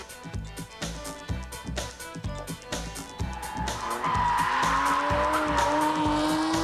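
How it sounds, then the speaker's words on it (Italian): A Ferrari F50 with its 12-cylinder engine revs hard, loud rhythmic bursts of engine noise building into a sustained rising howl with tire squeal near the end. "Il rombo dei 12 cilindri è una musica sublime"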